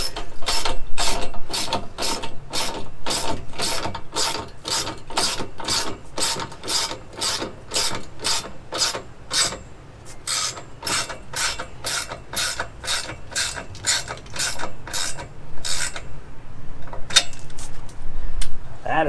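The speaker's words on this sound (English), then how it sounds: "the next step is to go ahead and tighten up that nylon locking nut" Ratchet with a long socket tightening a nylon locking nut on a Sumo spring, installed on an Alliance fifth-wheel trailer: loud, close, steady runs of sharp clicks with brief pauses where the handle swings back.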